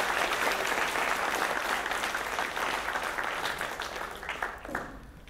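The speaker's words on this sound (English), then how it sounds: "So a big round of applause for our international performers." A live audience applauds international performers at an International Mother Language Day celebration, steady sustained clapping from a crowd that gradually thins and fades toward the end.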